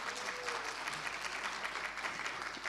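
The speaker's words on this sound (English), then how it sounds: "May I have a big round of applause for all of us, please?" Steady applause from a conference audience at an international CEO forum, dense and sustained clapping filling the room at an even level throughout, with no talk over it.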